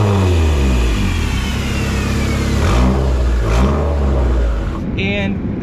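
A car fitted with a MaXpeedingRods turbo revs hard on a dyno, loud and close, its engine note climbing, dipping and surging again in sweeping pitch changes before easing off at the end.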